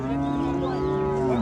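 A young bull at a livestock market in Jalal-Abad gives one long, loud, close moo that holds steady before dipping at the end, over a low murmur of market noise.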